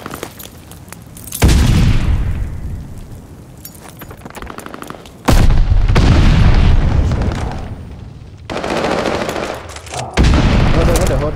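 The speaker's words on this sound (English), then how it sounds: "Hard point's under fire." Automatic gunfire and booming blasts erupt in a video game firefight around a contested hard point, coming in loud dense bursts separated by quieter stretches.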